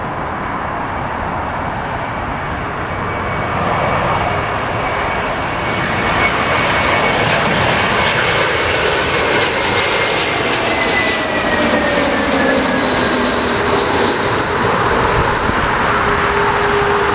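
Heavy jet airliner landing at Heathrow in a strong crosswind, a loud continuous engine roar that builds and holds as the aircraft passes close by, with steady wind and rumble beneath.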